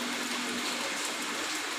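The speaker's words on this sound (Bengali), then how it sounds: "বৃষ্টি হচ্ছে" Light rain falling in Kolkata, a steady even hiss of drizzle with no distinct drops, continuous and moderately near, no voices.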